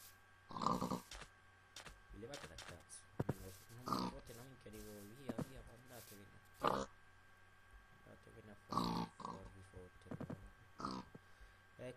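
Pig oinks and grunts from Minecraft sound in several short bursts, fairly close, mixed with someone talking and game noises in a jungle setting.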